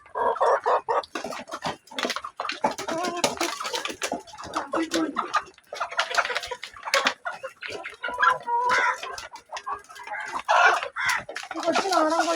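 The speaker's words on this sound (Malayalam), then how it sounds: "കൊച്ചു നാടൻ കോഴികളാണ് അട വറുക്കാൻ വാങ്ങിച്ചത്" Native laying hens cluck and squawk nearly continuously, close by and fairly loud, a busy flock chattering with occasional sharper calls.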